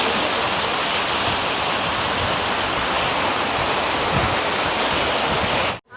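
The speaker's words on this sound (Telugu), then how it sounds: "ఫుల్ వాటర్ సౌండ్ వస్తాను" Loud, steady rush of water falling from a fountain at Komati Cheruvu lake park in Siddipet, pouring without a break, a dense continuous roar that stops abruptly at the very end.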